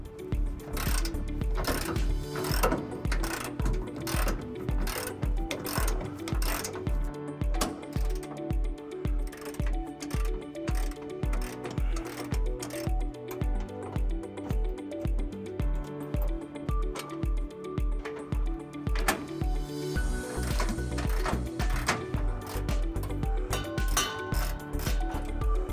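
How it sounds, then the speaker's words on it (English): A ratchet fitted with a 21 mm socket loosens bumper bolts on a 2015-2022 Chevy Colorado during a trailer hitch installation, its rapid clicking running steadily and close up in repeated bursts with no talking. "we're gonna go ahead and remove those bolts using a"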